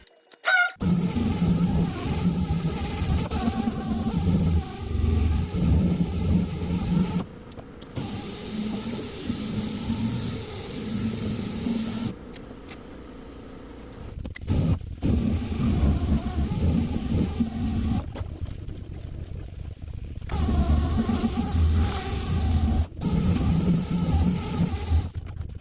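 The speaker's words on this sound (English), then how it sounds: "I'm going to go back to my orbital sander a little bit" An orbital sander works over the clear coat on a Chevy C10, giving a steady, loud whirring hum with a broad hiss. It drops out briefly several times and then starts up again.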